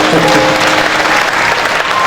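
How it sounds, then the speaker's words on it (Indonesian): Steady applause from a crowd after a speech, dense clapping continuing at an even level throughout. "Tepuk tangan buat Mas Dewa"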